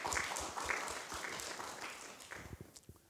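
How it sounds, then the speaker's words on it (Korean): A church congregation claps for children finishing church school, soft scattered applause that thins out toward the end into a few separate claps. "우리 박수 한번 보내주시기 바랍니다."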